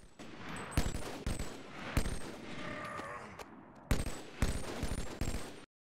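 A battle rifle in the VR shooter Boneworks fires in sharp three-round bursts, loud cracking shots in quick groups of three repeated several times, with a short echoing tail after each.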